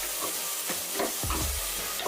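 Grated coconut, mint and coriander frying in a pan give a quick stretch of stirring and scraping over a gentle sizzle, all close up.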